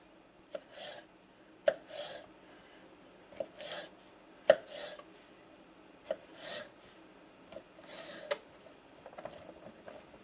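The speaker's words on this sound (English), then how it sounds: "cut them in slices." Chicken of the woods mushroom sliced with a knife on a board, a steady series of soft rasping strokes, each ending in a sharp tap on the board roughly every second, close and quiet, with no talking.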